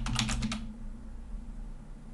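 Quick burst of computer keyboard typing while entering a layer name in architectural drawing software, several close, crisp key clicks in the first half second followed by quiet room tone.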